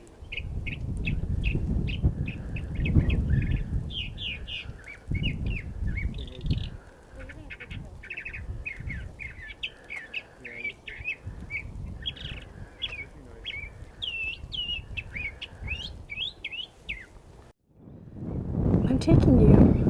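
Many birds chirp and call in a canyon, quick high twittering calls repeating steadily over wind rumble and a voice talking, ending with a burst of wind noise.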